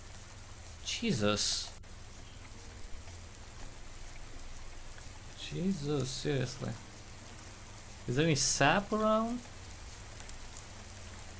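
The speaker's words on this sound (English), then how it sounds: "Can't believe it's raining just as I go super high up." Rain falls outdoors with a steady, close hiss that continues throughout, while someone speaks over it in three short bursts.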